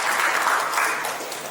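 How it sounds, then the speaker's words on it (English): An audience at a Jaipur, Rajasthan event applauds, steady dense clapping sustained at even loudness throughout, with no voices over it. "Round of applause for Rajasthan"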